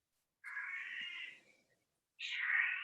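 Cat meowing indoors, two drawn-out, fairly close meows with a pause between them, the first longer and the second rising slightly, no talking.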